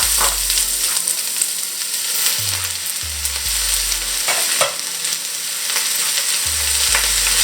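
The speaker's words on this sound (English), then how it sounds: "Once your pan is hot, add your oil, and then add your onions." Onions hit a hot, oiled pan over medium heat for French onion soup, producing a loud, continuous hissing sizzle with occasional sharper crackles and a low stove hum underneath, with no talking.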